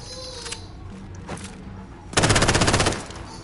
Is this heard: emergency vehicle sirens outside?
no